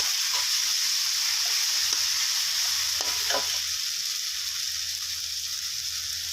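Chili curry paste and pork are stir-fried in a hot pan with a splash of stock, giving a steady loud sizzle and hiss with faint scraping stir strokes throughout.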